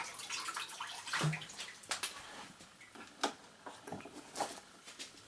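Cold tap water runs steadily into a small glass, a soft continuous splashing stream with a few brighter drips and patters, close by and fairly quiet, no voices.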